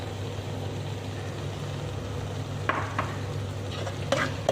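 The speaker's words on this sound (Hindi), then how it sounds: "और इसे अच्छी तरह फ्राई करते रहेंगे।" Egg and potato frying in a pan, a steady low sizzle under a constant hum, with a few sharp scraping stirs toward the end.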